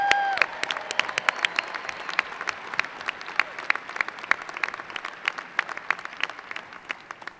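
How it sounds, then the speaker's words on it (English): A commencement crowd applauds graduates of a business college with a sustained round of clapping, many sharp individual claps standing out over a steady bed of hand noise, fairly even throughout. "let's begin by congratulating our soon-to-be graduates with a round of applause"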